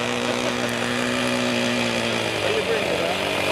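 A Merco 61 glow engine on a radio-controlled boat runs throttled back, giving a steady, continuous buzzing drone at fairly close range with no breaks over the short stretch.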